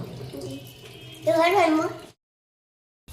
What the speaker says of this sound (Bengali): একা একা ব্রাশ করে আবার একা একাই মুখ ধুচ্ছে